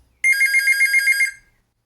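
A fixed wireless GSM terminal phone rings once during boot: a single electronic ring of about one second with rapid warbling pulses, close and clean against silence.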